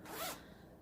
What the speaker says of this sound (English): It's got a nice zipper.